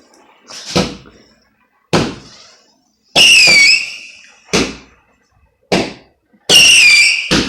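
Bonfire night firework cake with 100 shots going off: loud, widely spaced booming bangs, some followed by whistling, screeching tails, close by in the open.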